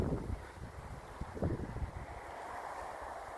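Gusty wind buffets a dry hillside garden of citrus and other fruit trees in September, pressing on the microphone as low, uneven rumbling bursts under a steady hiss, with no talk.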